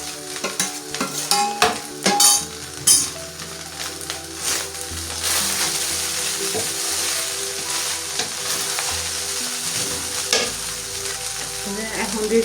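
Egg and vegetables for fried rice sizzle loudly in a hot pan, with rhythmic stirring scrapes and clinks up front, then a steady, dense frying hiss.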